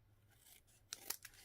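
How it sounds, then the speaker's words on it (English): Scissors snip along the edge of a handmade autumn-leaves greeting card, a few quick close cuts over about a second in an otherwise quiet room. "Going to trim this edge up a bit."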